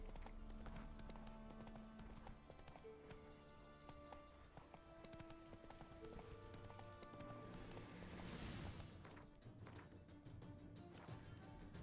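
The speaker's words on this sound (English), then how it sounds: "Run, Roach." Roach the horse gallops in The Witcher III, a steady run of rhythmic clip-clop hoofbeats under continuous game music, with a brief swell of louder ambience partway through.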